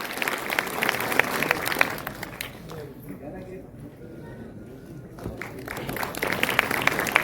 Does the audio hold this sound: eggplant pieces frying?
no